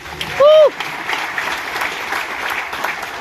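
A seminar audience at a direct-selling business talk claps together, a moderate spread of applause following a brief loud sweeping tone at the start, continuing evenly until the end.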